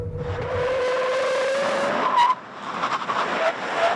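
Tires squeal loudly during a hard braking test of an SUV or pickup truck on a test course, a sustained skid over engine noise that cuts off abruptly, then the vehicle rumbles on.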